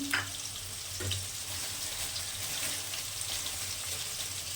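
Beans, carrots and other vegetables fry in oil for fried rice, giving a soft, even sizzling hiss close by with a couple of brief clatters near the start. No one speaks.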